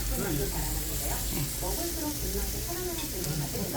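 Pork belly sizzles on a grill at a Korean barbecue restaurant, giving a steady crackling hiss throughout, with people talking over it.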